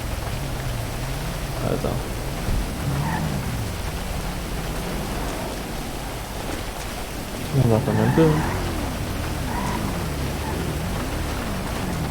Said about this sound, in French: On est pas rentré, il pleut, là.